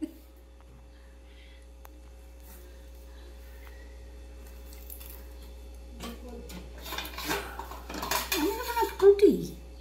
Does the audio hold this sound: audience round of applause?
no